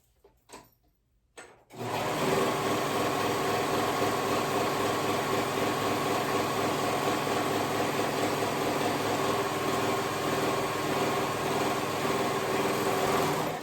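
A serger sewing machine runs steadily and loudly, stitching the side seam of a pair of leggings, starting after a brief pause and continuing without a break for the rest of the clip.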